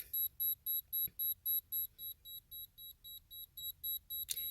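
A cheap handheld breath ketone meter beeps in a fast, even run of about fifteen bright, high-pitched pulses, close and clear with no talk over it.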